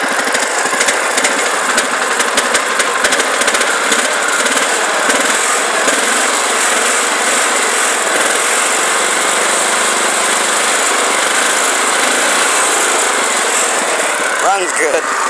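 1968 International Cub Cadet 482 garden tractor with a newer replacement engine, running at a steady loud idle close by, a continuous buzzy small-engine drone with faint rattles throughout.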